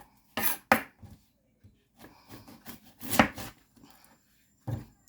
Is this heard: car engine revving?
no